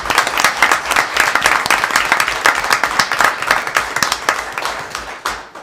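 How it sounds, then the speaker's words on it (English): Loud, sustained round of applause from an audience honoring police officers at a township reorganization meeting, dense clapping throughout before trailing off at the end. "They deserve a round of applause for themselves."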